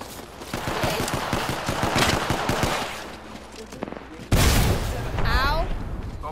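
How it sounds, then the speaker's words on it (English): Rapid automatic gunfire in the video game Apex Legends rattles out in loud bursts, then a sharp heavy blast cuts in, with players' voices heard over the shooting. "Opening fire."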